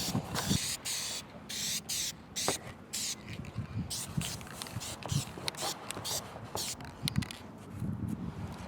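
Spray paint applied as a second coat to a vinyl dashboard of a 1966 Ford Country Sedan wagon, repeated short hissing bursts up close with handling noises between them.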